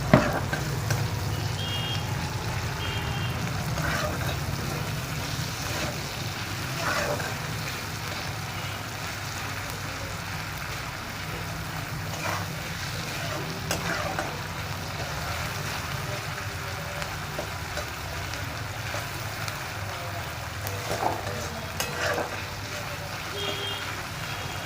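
Salted onions frying in a pan and being stirred, a soft steady sizzle with scattered scraping and clinking of a spatula, fairly quiet throughout, no speech.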